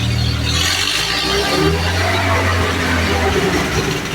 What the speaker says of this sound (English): The noise you're hearing up there is just the gasket.